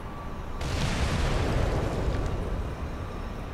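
A grenade bursts in the Ghost Recon Phantoms video game, a sudden loud blast followed by a rumbling roar that slowly decays over a few seconds, with no voices.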